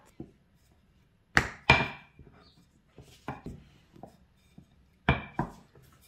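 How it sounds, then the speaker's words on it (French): Sharp knife chops cutting dough into squares on a board, several crisp separate strikes with quiet gaps between them. "Du coup, je vais couper en carrés, c'est pour facile à emballer."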